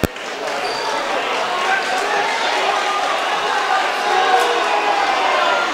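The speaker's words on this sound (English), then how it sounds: "And the crowd's going to go wild." Dense crowd noise in a gym at a high school boys' basketball game between Cheverus and Oxford Hills, a steady roar of cheering and chatter with a few sharp peaks, sustained and loud throughout.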